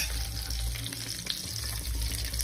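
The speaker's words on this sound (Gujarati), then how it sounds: "હવે આપણે એની અંદર લસણની કળીઓ એડ કરી દઈશું।" Garlic cloves frying in a pan with onion, a loud close continuous crackling sizzle that stays steady throughout; no talking.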